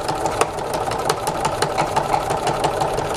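A home sewing machine stitches a quarter-inch seam on a small fabric wallet, its motor whirring steadily with a rapid, slightly labored needle clatter, loud and close with no talk.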